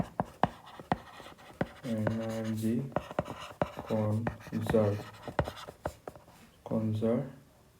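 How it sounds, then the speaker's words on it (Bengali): Chalk or marker tapping and scraping across a classroom board in a physics lesson, a series of short sharp ticks and strokes, with someone talking over them in between. "তো প্রথম তো এটা হেডিংটা লিখি, হেডিংটা দেখো কি লিখি"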